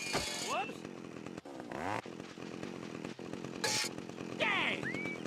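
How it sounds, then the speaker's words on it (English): A chainsaw revs loudly in the PS2 video game Open Season, rising and falling in sharp bursts amid other game sound effects and character voices. "Riley is gonna love this chainsaw!"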